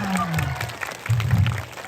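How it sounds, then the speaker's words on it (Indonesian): Spectators clap during a Balinese sacred dance performance at Lumbuan, a short burst of applause that swells again toward the end, with voices talking over it. "Tepuk tangan."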